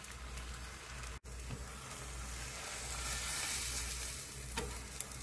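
Beaten egg with zucchini sizzles and fries steadily in a pan, a close, continuous crackling hiss with one brief dropout near the start.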